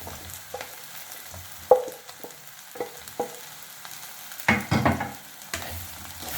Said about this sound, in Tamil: இப்போ வந்து காளான் போட்டுக்கலாம்.